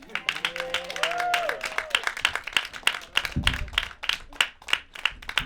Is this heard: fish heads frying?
no